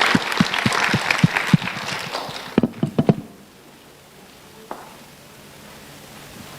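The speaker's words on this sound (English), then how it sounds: "Please give a warm round of applause to Nicole Chow for receiving the CYC award." Audience applause at a youth competition award ceremony in Toronto, dense clapping with sharp individual claps for about three seconds before it stops abruptly, leaving a quiet room.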